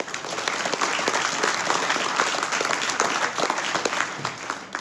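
Sustained audience applause fills the hall at a 2021 Doctor of Physical Therapy commencement, dense steady clapping throughout with no pause.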